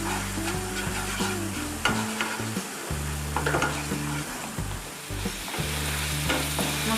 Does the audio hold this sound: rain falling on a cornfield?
no